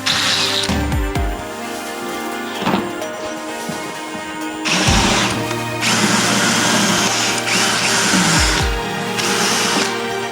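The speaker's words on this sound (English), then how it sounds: "let's try again drilling holes" Power drill boring holes during a camper conversion fitting a rock and roll bed into a VW T4, whirring in several bursts with short pauses between, fairly loud and close.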